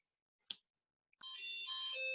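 A short tick, then a sustained electronic beeping tone that shifts pitch, clear and alone against silence, from a buzzer in a classroom math game show.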